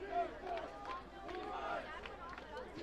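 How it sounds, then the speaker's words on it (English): Cougars football crowd in the stands at a high school game chanting for the defense, a steady mass of voices swelling and falling with rhythmic cheering and general babble throughout. "Defense chant from the Cougars crowd"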